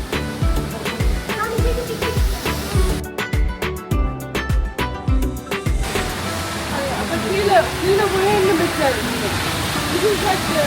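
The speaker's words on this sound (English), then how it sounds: "you do get nice views of the waterfall from different angles as you walk through" The waterfall at Düden Waterfalls in Antalya rushes as a steady, full roar of falling water, with people talking over it for much of the time.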